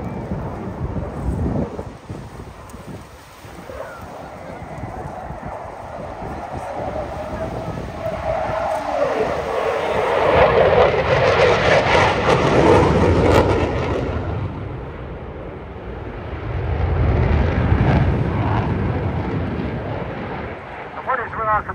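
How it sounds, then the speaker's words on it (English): A jet aircraft at a Battle of Britain fly-past builds speed toward around 600 miles an hour, its engine roar swelling and fading twice as it passes, with wind buffeting and a commentator talking over it. "Building up the speed now, the jet coming back again for another 600 miles an hour."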